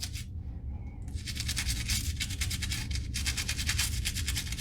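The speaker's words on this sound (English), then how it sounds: "then you're going to get your medium or soft bristle toothbrush and go for it" A soft-bristle toothbrush scrubs a dental splint coated in dish soap, with brisk, rhythmic back-and-forth strokes heard close up after a short quiet start, and no talking.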